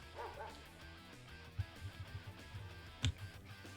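Small dog barks and yips from the Pokémon Violet video game, a handful of short, soft woofs spread across a few seconds over steady game background sound, with one sharper bark near the end.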